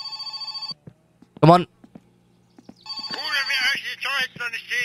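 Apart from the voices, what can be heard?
telephone ringing in the video game My Summer Car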